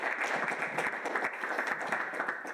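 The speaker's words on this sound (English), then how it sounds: "Please give him a warm round of applause." Steady applause from a conference audience, a fairly dense patter of clapping hands lasting a few seconds at moderate distance with no talk over it.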